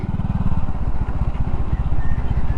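A motorcycle engine revs as the throttle is twisted during a turning lesson. A loud, close, rapid pulsing chug runs steadily throughout with no talking over it.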